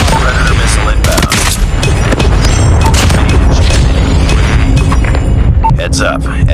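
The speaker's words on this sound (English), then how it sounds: "Predator missile inbound." Booming blasts and rapid gunfire fill a Call of Duty Mobile multiplayer clan war match as a predator missile strike lands, loud and dense throughout.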